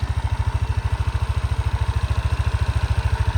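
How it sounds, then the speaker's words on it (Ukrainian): A 2017 Yamaha NMAX 155 scooter engine idles steadily up close, its low, rapid, even putter pulsing throughout with no voices. "Так, ну що двигунчик каже?"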